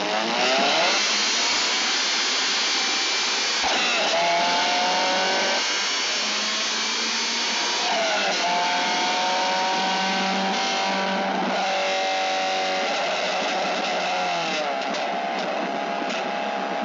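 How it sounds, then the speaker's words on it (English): A Honda Civic with a popcorn or crackle tune on deceleration runs loud and steady, its exhaust droning with repeated pops and crackles as the engine revs climb and fall. No voices are heard. "So you can hear how, or you can see how the pops happen when the cars lean."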